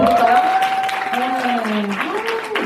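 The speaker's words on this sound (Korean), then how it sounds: "박수 한번 드릴까요?" Applause from the audience at a Korean business presentation and friend-invitation seminar, steady clapping that runs the whole way, held up under a sustained tone and a voice that keeps talking over it.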